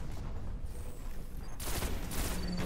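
Gunfire in the PS4 game Destiny: a dense, steady wash of weapon fire and booms that swells into a sharper, brighter burst about halfway through, loud and close with no talking.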